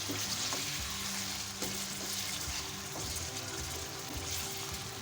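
Mutton sizzles and fries steadily in a pan with ginger-garlic paste, with occasional scrapes and stirring clicks; a continuous, moderately quiet crackle with no voices.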